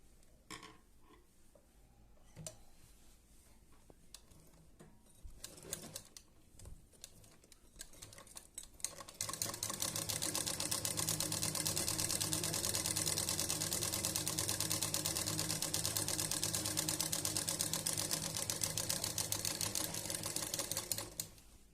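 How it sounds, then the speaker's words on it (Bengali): A sewing machine set to stitch length 11 runs steadily and loudly in a fast, continuous mechanical whir after several seconds of quieter handling clicks and taps. "এরপর আমি এগারোই সেলাই দিয়ে দেখাচ্ছি সেলাইটা কতটুকু ছোট হয়"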